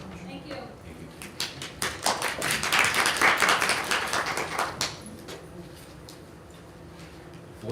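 Applause at a school board of education meeting, a room of hands clapping that swells to a dense burst for a few seconds and then thins out, with speech before and after.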